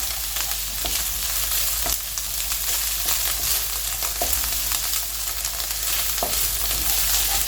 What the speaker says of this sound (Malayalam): ആ എഗ്ഗ് ആഡ് ചെയ്ത് അത് നന്നായിട്ടൊന്ന് മിക്സ് ചെയ്യുക. ഹൈ ഫ്ലെയിമിൽ തന്നെ നന്നായി മിക്സ് ചെയ്തെടുക്കാം